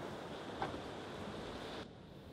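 Wind blows over the sea as waves rush in a steady broadband roar, with a brief gust near the start before the sound drops off abruptly toward the end.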